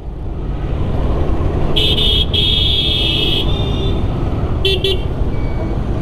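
A vehicle horn honks loudly for about a second and a half, then gives two short toots, heard from a Bajaj Platina motorcycle riding through steady road traffic.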